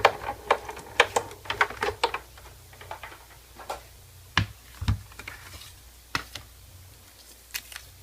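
A die-cutting machine cuts through stamp material in a crafting setup, giving a series of sharp clicks and ticks, dense at first then sparser, close and fairly quiet with no talk.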